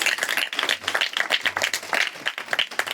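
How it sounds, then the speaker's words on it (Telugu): A church congregation claps hands together loudly and continuously at a worship service, a dense, fast patter of many palms filling the space close by. "గట్టిగా విశ్వాసముతో చప్పట్లు కొట్టండి, దేవుని మహిమపరచండి"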